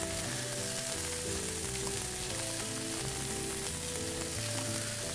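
Steady, close sizzling and crackling of pancetta frying in a pan, continuous and fairly quiet, with no voices.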